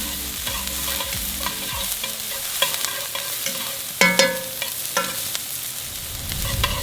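Garlic and leeks sizzle steadily in a hot pan while being stirred, with scraping clatters and a sharp burst of sizzle midway as more food goes in, continuous and close.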